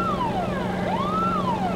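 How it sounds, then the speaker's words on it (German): Fire truck siren on a Tatra 148 in Farming Simulator 19, a wailing tone that sweeps down, then rises and falls again, loud and close with no other sound. "Können wir auch gleich hier unsere Sirene mal einschalten."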